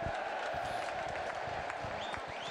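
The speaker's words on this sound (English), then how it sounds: "Let's have a round of applause." Modest applause rises as both Bungay captains jointly receive a trophy after a match, a soft, fairly distant patter of clapping with light crowd murmur throughout.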